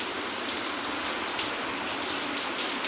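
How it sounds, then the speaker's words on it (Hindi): Heavy rain falls steadily outside a home, a loud, even rushing patter with individual drops spattering close by and no voices. "देखिए कितनी बारिश आ रही है"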